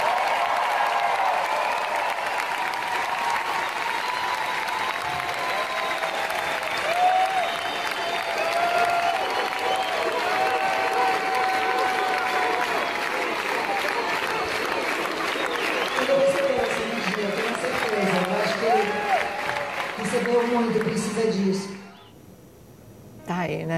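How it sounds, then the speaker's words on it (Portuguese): A large studio audience on a Brazilian afternoon TV show claps steadily and at length, with voices and cheering rising within the applause before it cuts off abruptly near the end. "Vocês podem bater palmas para ele."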